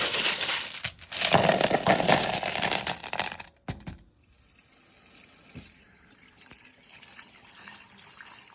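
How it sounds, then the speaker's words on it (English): Water pours and splashes over tumbled rocks being rinsed for the next polishing stage, a loud rushing flow with clattering stones that cuts off, then a quieter trickle and steady running tap. "now I'm gonna give this all one more good rinse off"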